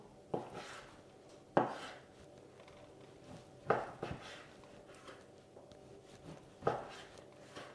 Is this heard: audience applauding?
no